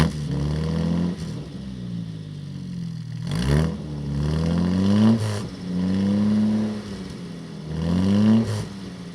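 A Jaguar E-Type with an aftermarket quad exhaust revs repeatedly up close, the engine's deep note climbing and falling in several throttle blips over a steady idle, with no talking.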